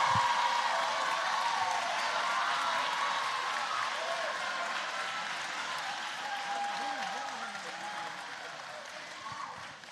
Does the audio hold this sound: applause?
yes